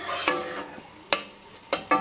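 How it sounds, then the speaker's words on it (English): Chicken curry roasting in a pan over medium-high heat: a soft steady sizzle runs throughout, broken by a few sharp scraping clacks of a utensil stirring against the pan. "I'm going to basically roast it all in the pan"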